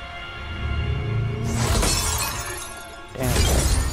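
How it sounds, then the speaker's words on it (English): A frozen opponent bursts into icy shards in the fighting game Mortal Kombat 11, two loud crackling shatter bursts with bright glassy fragments over low rumbling game music. "About to shatter her into pieces."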